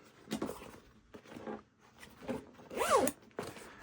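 Zipper on a pocket of a crossbody sling bag, pulled open and closed in several short rasping zips, close and fairly quiet, with one sharper longer pull near the end.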